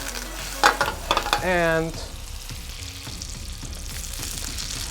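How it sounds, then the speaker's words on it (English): Strawberries sauté in butter in a hot pan over high heat, a steady close sizzle with brief clatters and a short voice near the start. "saute strawberries over high heat with a little bit of butter"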